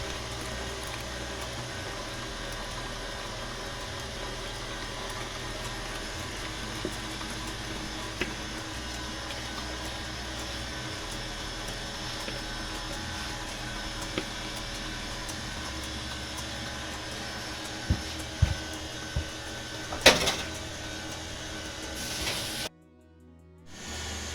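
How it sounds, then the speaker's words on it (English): An electric mixer whips egg whites for a Jamaican Christmas fruit cake, giving a steady, continuous motor whir with a faint hiss that runs unbroken for about twenty seconds before cutting off abruptly. "So it's whipping in, and I'm just gonna add my yolk now."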